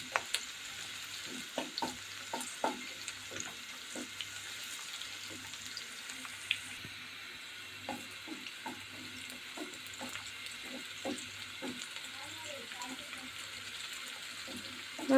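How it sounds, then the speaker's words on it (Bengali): Onions and chillies frying in a pan, a soft steady sizzle under repeated scraping taps of a spatula, quiet and close with no talking. "আর পেঁয়াজ মরিচটা কিন্তু ভাজা হয়ে আসছে, আর একটু ভাজা ভাজা হবে।"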